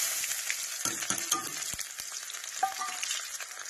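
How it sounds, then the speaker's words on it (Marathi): Sliced onions fry in very hot mustard oil, with a bright, hissing sizzle throughout and a few quick stirring knocks of a utensil against the pan, heard up close with no talking. "छानपैकी कांद्याचं छोक मारलेलं आहे।"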